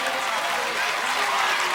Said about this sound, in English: Brian's wife Julie applauding the winner, our finalist